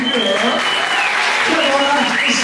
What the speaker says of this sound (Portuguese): E palmas para a nossa primeira.